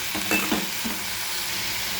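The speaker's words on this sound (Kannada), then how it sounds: "ಈಗ ಅದಕ್ಕೆ ಸೊಪ್ಪು ಹಾಕಿದ್ದೀನಿ. ನೋಡಿ, ಹೀಗೆ ಸ್ವಲ್ಪ ಇದನ್ನು ಮಿಕ್ಸ್ ಮಾಡ್ಕೋಬೇಕು" Leafy greens are tossed in hot oil with garlic in a pan, giving a soft, steady sizzle broken by a few short scraping strokes of a spoon near the start; quiet and close, without speech.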